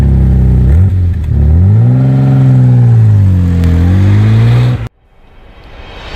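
Loud, close Maserati engine rising and falling in pitch as it revs while driving, a sustained throaty drone that cuts off abruptly near the end, leaving faint road noise.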